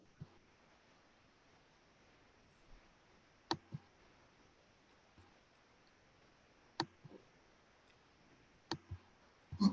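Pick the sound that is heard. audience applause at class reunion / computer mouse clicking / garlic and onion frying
computer mouse clicking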